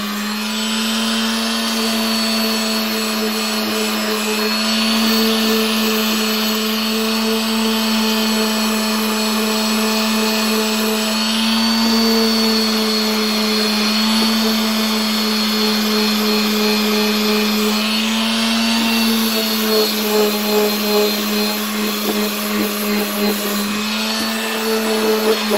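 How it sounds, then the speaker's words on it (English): A power sander with 50 grit sandpaper grinds rust off a 131 RE rail in a loud, steady, close whine that runs the whole length with small shifts in pitch and pressure, and no voices. "Shut the sander off for a second here."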